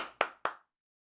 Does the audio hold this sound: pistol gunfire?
no